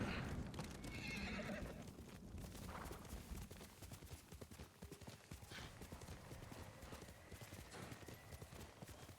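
Hooves clip-clop rapidly and continuously while a horse whinnies near the start, with a busy layer of other game noise underneath, in Ghost of Tsushima.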